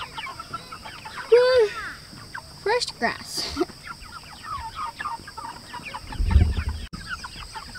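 Chickens cluck and squawk nearby in short bursts while a person speaks briefly over them.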